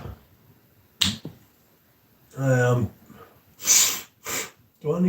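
A few sharp nasal sniffs, spaced apart, close up, with breathy snorts between them and no words spoken.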